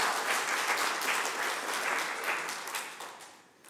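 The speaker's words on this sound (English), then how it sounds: "Round of applause" Steady applause fills the room at an AGM, a full round of clapping that holds strong before tapering off toward the end.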